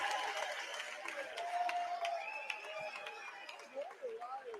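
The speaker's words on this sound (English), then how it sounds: "And you hear the crowd." High school basketball crowd in a gym murmurs and claps faintly in the background, with sneaker squeaks and scattered voices, fairly distant and low in level.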